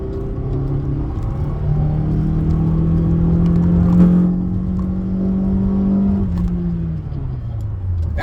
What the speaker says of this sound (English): Hear that? That's a TRD engine. It's kind of beefed up.